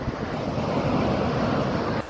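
Sea waves wash onto a beach in a loud, steady roar of surf, mixed with gusty wind rumbling on the microphone, and the noise drops off abruptly at the end.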